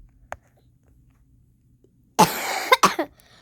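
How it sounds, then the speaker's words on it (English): A person coughs in a short burst of two or three harsh, close coughs after a quiet stretch, with a faint click earlier on. "Sorry guys, I'm coughing a lot"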